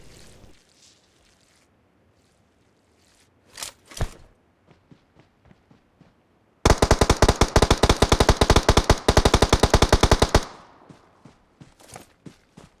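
A DP machine gun fires in a shooter video game. A few scattered shots and footsteps come first, then a loud, sustained rapid-fire burst lasts nearly four seconds, followed by fainter trailing shots.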